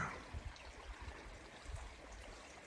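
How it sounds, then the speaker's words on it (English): Shallow creek water gurgles and trickles steadily beside a spring campsite, a soft, continuous babble with small splashy bursts, fairly faint and close with no talking. "We're right next to a creek. You can hear the water gurgling."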